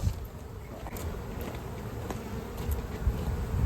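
Honeybees buzz in a low, steady drone around an open hive, close and continuous with faint handling knocks.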